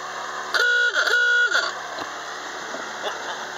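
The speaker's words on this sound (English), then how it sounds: "Should give him a honk." A loud boat horn blast rings out twice in quick succession, each a steady tone lasting about half a second, over a constant background rumble.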